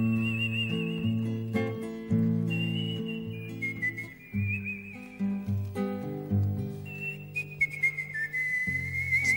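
A man whistles a wavering, broken tune, the notes sliding and breaking off repeatedly, with steady music or low voices underneath throughout.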